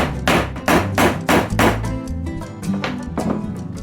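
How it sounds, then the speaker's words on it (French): A pricking iron is struck with a hammer to punch stitching holes in leather for an expedition bag: a run of loud, close, regular knocks, then softer, quicker taps. "il faut préparer et percer les trous de couture à l'aide d'une griffe"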